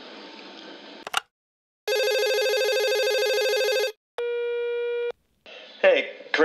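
Telephone tones on a call: a sustained harmonic tone lasting about two seconds, then a shorter steady beep, set between brief bursts of muffled voice and noise.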